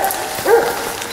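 A hunting dog gives a single short bark or yip during a sambar deer hunt, fairly close and brief against quiet outdoor background.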